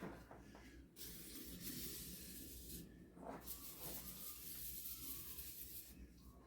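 WD-40 lubricant hisses from an aerosol can in several short sprays onto a front bearing on a 2006 Ford F150 2WD truck, quiet and close, with light rubbing between the bursts.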